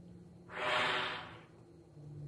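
Airy, breathy rush of air blown through a recorder with no clear pitch, swelling in for about a second and then fading, close and fairly soft.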